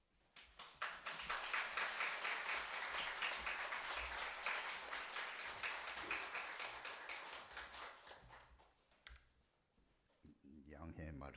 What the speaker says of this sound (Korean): 우리 감독님 나오실 때 감독님 사랑합니다. 뜨겁게 박수로 맞이해 주시기 바랍니다.